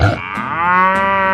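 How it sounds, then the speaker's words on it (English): A single drawn-out cow moo, loud and close, rising into a sustained harmonic low call with no other sounds around it. "Cow."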